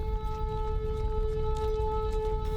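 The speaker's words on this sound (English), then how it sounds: "Wailing sirens filled the air in Kramatorsk in eastern Ukraine" An air raid siren wails steadily in Kramatorsk, eastern Ukraine, as one sustained tone heard from a distance over low rumbling background noise.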